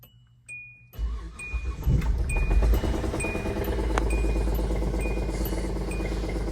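A Hyundai Santa Fe treated with Rislone, with a chime pinging repeatedly as the engine cranks and comes up to a steady running drone close by, without speech.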